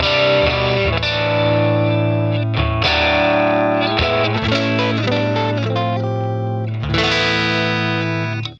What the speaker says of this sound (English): Pulling the volume knob down.